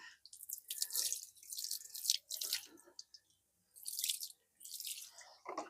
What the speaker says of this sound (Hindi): अब हम दोनों हाथों को अच्छे से धोएंगे।